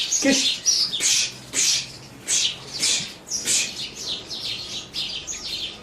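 Sparrows chirping in a quick, irregular series of bright, close tweets that overlap one another for several seconds, with a faint low background murmur.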